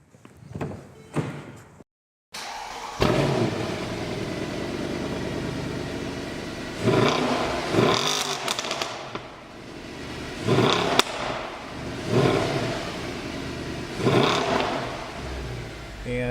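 An idling 2010 Mercedes-Benz E63 AMG engine rumbles steadily with a deep exhaust note, swelling in several revs before settling back, after a few brief knocks at the start.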